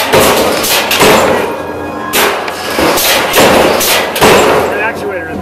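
A pneumatic hopping-can prop with a piston at a haunted-house show thumps and bangs in a repeating cycle of about four loud, jolting hops, heard close up over crowd noise.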